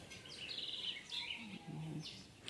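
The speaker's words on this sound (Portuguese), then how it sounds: "Olha os pássaros, coisa mais linda" Birds singing outdoors at dawn, several faint chirps and short whistled phrases, soft and somewhat distant against quiet background noise.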